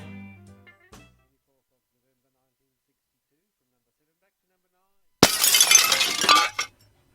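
Glass breaking and shattering in a glass repair advert, a single loud crash of about a second and a half that bursts in after a brief voice and long silence, then cuts off.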